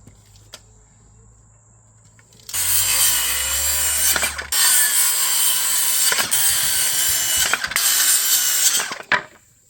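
Wooden boards for rain barrel stand legs are sawn by hand: a loud, close, rasping stroke-by-stroke cutting starts after a quiet moment and runs for several seconds with brief pauses before stopping.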